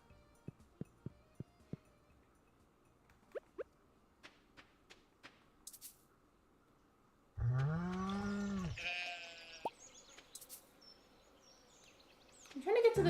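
Goats bleat in the Stardew Valley farm game: one loud, drawn-out bleat near the middle, a shorter one at the end, and soft interface clicks and taps before them.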